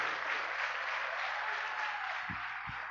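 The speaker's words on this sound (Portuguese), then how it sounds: "Só quem crê vai aplaudir a Jesus Cristo, o Senhor." A church congregation applauding, dense and steady clapping from a large crowd that fills the space at full strength, then cuts off abruptly at the end.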